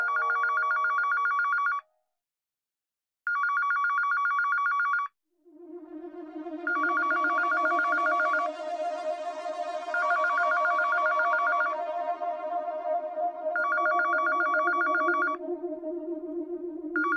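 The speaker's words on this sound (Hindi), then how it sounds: "आप फोन लगाओ उसके घर पे जरा" A telephone rings loudly in repeated electronic bursts with short pauses between them, no voices over it; midway a second, lower-pitched ring or tone joins and runs steadily beneath the bursts to the end.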